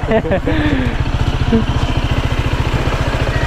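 A motorcycle engine idles up close with a fast, even chugging pulse, loud and steady throughout, while a voice briefly speaks at the start.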